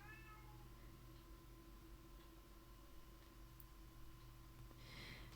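A pet cat meows a few times at the start, faint and somewhat distant, over a steady electrical hum and quiet room noise, with no voices.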